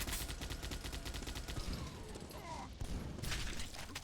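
Rocket fire in a Doombringer duel league match, with rapid repeated bursts and blasts in a dense, fast rhythm and a short gap midway before more bursts, fairly quiet overall.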